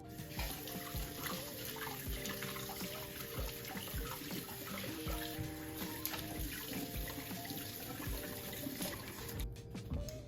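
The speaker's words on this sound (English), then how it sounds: "We're going to completely wash the outside of our potato just with water and kind of scrub it" Tap water runs steadily at a kitchen sink while a potato is rinsed and scrubbed before cooking, a continuous close rushing hiss with faint rubbing and splashing throughout, no voices.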